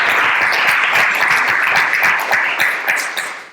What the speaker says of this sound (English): and give him a clap.